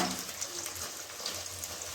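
Chicken pieces for chilli chicken fry in hot oil on a high flame, giving a soft, fairly quiet continuous sizzle with faint bubbling crackles throughout.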